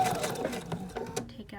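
Sewing machine top stitching around a baby burp cloth, a close, quick mechanical whirring and clatter, partly overlapped by speech.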